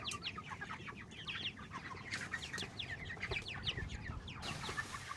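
Cornish Cross meat chickens on pasture, a flock clucking and chirping in soft overlapping calls, fairly faint and continuous over an outdoor background, with no talking.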